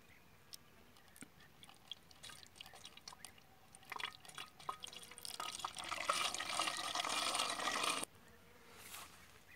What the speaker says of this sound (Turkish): Karışımı yavaş yavaş döküyorum.